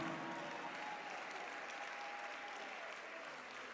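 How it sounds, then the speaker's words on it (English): Audience at a graduation ceremony gives sustained, steady applause for the graduates, dense clapping from a large crowd filling the room. "help me clap for these resilient leaders"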